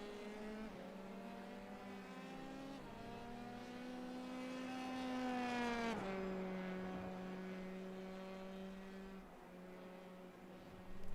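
A Formula 3 car in a sim racing game laps Silverstone, its engine a steady high harmonic drone that climbs in pitch through a gear, drops sharply on a shift, then holds and eases, fairly faint with no talk.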